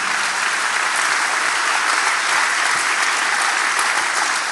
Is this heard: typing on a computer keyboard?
no